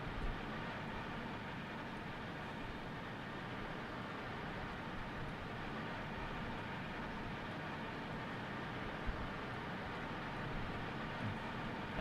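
A steady, broadband roar of cabin noise fills the air without letup, like the constant drone at the back of an airliner; rear cabin of a BAe 146 in a flight simulator game.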